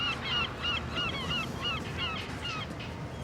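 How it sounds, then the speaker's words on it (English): Large seabird, an albatross, gives a string of about seven honking, goose-like calls at a steady rhythm over a constant broadband wash of wind or sea noise, fairly close and clear. "They're big things, seagulls, aren't they? That was an albatross."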